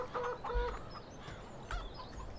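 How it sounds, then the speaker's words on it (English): Chickens clucking in the farming video game Farming Simulator 17, a few short bursts of fowl calls close by over a steady low background hum. "Oh, loud chickens."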